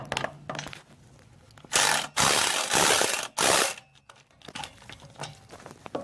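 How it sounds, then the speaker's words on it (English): A ratchet snugging hub bolts on a 2008 Chevy Suburban front wheel hub: quick clicking ratchet strokes near the mic, a few loud sustained bursts of rapid cranking, then lighter intermittent clicks and metallic handling. "we're just going to snug the 3 bolts that goes into the back."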